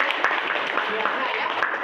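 Children clap together in a classroom, a dense, steady patter of many small hands lasting a couple of seconds, with chatter mixed into it.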